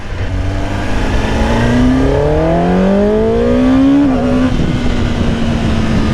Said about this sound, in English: It sounds really deep on the exhaust muffler.